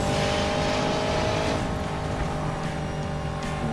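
Car drifting in Need for Speed Payback, a loud, steady engine roar with tire squeal carrying straight through, dense and continuous with no talk over it.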